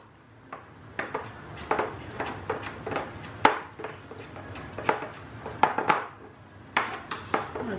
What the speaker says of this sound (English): I'm just chopping up these little jalapenos real nice and small too